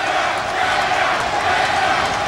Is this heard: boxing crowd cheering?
yes